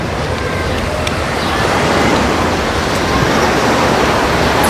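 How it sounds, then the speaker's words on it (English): Surf washing onto a beach, a broad continuous roar of breaking waves that is loud and close, with no voices. "I'm hoping to catch it as the waves break and sweep it away"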